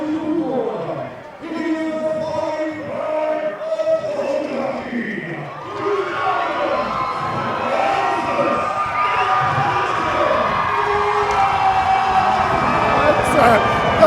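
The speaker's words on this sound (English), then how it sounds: "The crowd is going nuts." Crowd at a New Zealand title boxing fight cheering and roaring, the noise swelling loudly and building over time, with an announcer talking over it.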